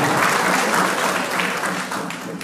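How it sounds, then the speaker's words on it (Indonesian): A crowd applauds steadily at a traditional customary induction ceremony, with dense, continuous clapping that stays loud throughout and only slightly tapers toward the end. "Mari kita berikan aplaus dulu"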